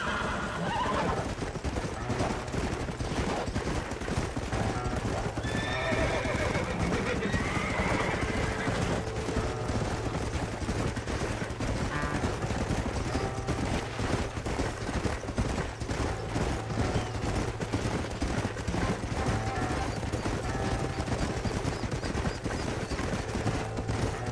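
Horses in the Red Dead Redemption video game neigh and whinny over clip-clopping hooves, with bursts of gunfire in a dense, steady game soundscape that runs throughout.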